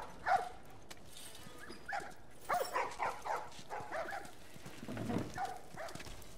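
A dog in The Last of Us yips, barks and whimpers in a string of short, fairly faint calls over quiet game ambience, with no talking.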